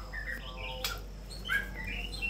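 Captive white-rumped shama (murai batu) singing close by, bright whistled phrases and short sweeping notes spaced out over a couple of seconds, with one sharp burst in the middle over a low steady hum.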